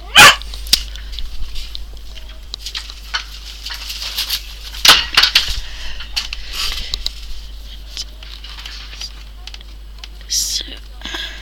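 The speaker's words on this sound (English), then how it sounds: "No barking, thank you." A dog barks indoors while someone works on a cardboard craft project, giving a couple of short, sharp barks spread apart, with soft speech and quiet handling noises between them.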